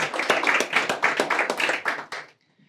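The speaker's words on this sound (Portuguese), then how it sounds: "Um aplauso também para o Tiago Mateus" An audience applauds a panel speaker at a banking and AI talk, with several clear, close hand claps forming an uneven burst that stops abruptly, leaving near silence.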